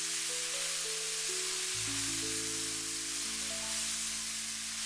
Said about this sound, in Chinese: 接下来把香菇直接倒在锅中，快速翻炒均匀，把香菇表面的水分炒干